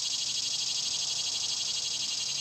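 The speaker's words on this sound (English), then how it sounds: "Even the cicadas are happy right now." Cicadas drone outdoors in a steady, continuous high-pitched buzz that pulses faintly, heard alone and fairly quiet.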